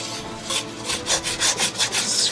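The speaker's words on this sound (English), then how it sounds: "I'm going to add 1/4 cup of flour to the leftover oil that's in here." Flour being stirred into leftover oil in a pan for gravy, the spoon scraping the pan in a steady back-and-forth rhythm of about eight strokes, close and fairly loud, with no talking.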